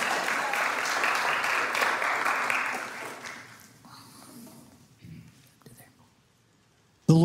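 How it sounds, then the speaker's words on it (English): A church congregation applauds for a few seconds during a Sunday morning service, clapping steadily and then fading away, with a short noise after a pause at the end. "Let's give him some applause this morning."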